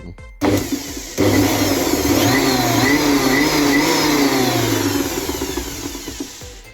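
Electric 220-volt motor of a Carver SH 2400E garden shredder under repair switching on after a brief click, then running loud and steady with a whining hum that eases slightly toward the end.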